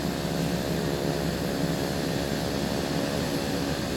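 Engine of a Black Square Piston Duke twin-engine aircraft in a flight simulator runs after a hot start, a loud, steady, dense roar that holds evenly throughout with no voices.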